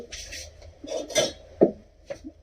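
A spoon clinks lightly against a glass while a Pimm's cocktail topped with Sprite is stirred, giving a few sparse taps and swishes close by with no voices.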